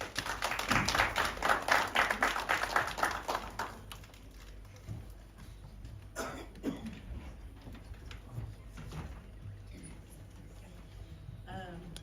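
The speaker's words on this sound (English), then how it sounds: "A warm welcome of applause." Applause welcoming the mayor and international child expert Janet Dupree to the fore at a children's dialogue event, a burst of clapping for the first four seconds that fades into room noise and scattered sounds.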